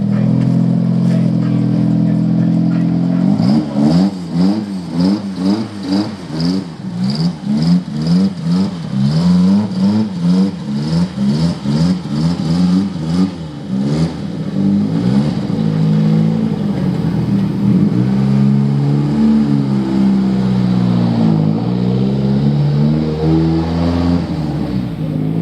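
A BMW E36 drift car engine revs repeatedly, loud and close, climbing and dropping in quick bursts before settling into a rough, steady idle with a few more throttle blips.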